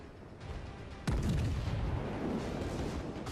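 A warship's secondary guns fire in World of Warships, one heavy booming report with a rumbling tail that lingers in the low end, rising out of quieter background ambience.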